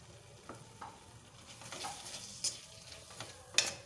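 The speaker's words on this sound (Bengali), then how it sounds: "ধনিয়া পাতা কুচিগুলো একটু কষিয়ে নেব" Chopped coriander leaves and peas fry with a potato curry (aloo dum), a soft steady sizzle broken by scattered stirring scrapes and a few sharp clinks of a utensil against the pan.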